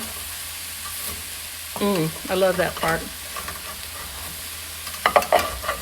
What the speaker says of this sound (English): if you've got stuff sticking to the bottom of the pan, you can dig that in and it'll peel up all that good stuff on the bottom